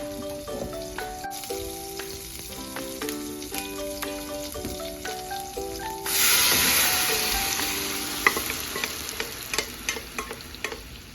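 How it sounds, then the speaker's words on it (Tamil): Mustard seeds, cumin, ginger and green chili sizzle in hot oil for a Tamil tempering, with steady frying crackle and stirring, while background music plays throughout; the sizzle swells louder about halfway through. "ஸோ கடுகு, ஜீரகம் நம்ம நார்மலா கூட்டுக்கு தாளிக்கிறது தான்."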